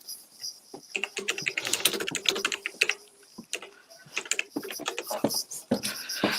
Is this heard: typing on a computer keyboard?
yes